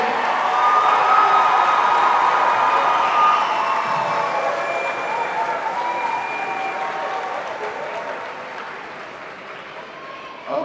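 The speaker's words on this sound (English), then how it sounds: "How about a round of applause for all 400 plus graduates?" A large crowd applauding a high school graduating class of over 400 at Sebring High, sustained dense clapping with some voices mixed in, gradually fading toward the end.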